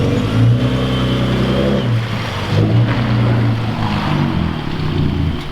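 2021 Ford Raptor exhaust rumbling and revving outdoors, a loud low drone that swells and eases in several surges, with other cars nearby.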